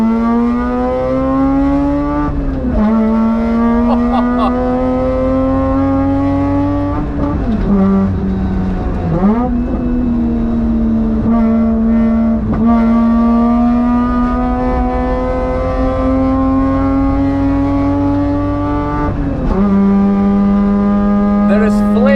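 A 10,000 rpm Mazda RX-8 rotary engine screams on the Nürburgring, spitting flames on upshifts. The loud, close engine note climbs repeatedly and drops briefly at each gear change through the whole run, with some speech underneath.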